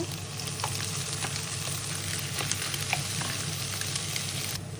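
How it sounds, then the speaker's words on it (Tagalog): Egg, onion and chashu pork frying in hot oil for Japanese fried rice: a loud, steady hiss and crackle of sizzling fills the whole stretch, close up, with faint spatters and no talk. "Mainit na yung mantika natin, yung egg. Lagay na rin natin yung sibuyas at yung ating chashu."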